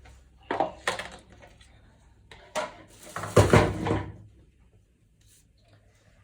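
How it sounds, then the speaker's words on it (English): A spatula mixes carrot muffin batter in a bowl, producing close, uneven bursts of scraping and light clinking, with a longer heavier stretch in the middle and quiet pauses between strokes. "So I'm going to just mix this together like so. So I think my spatula will do the rest of the work from here."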